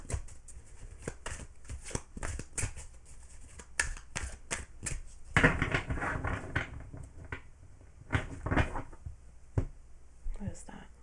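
Tarot cards handled close up, with crisp taps, slides and flicks at an irregular pace and a denser burst of shuffling near the middle, quiet and alone with no talking.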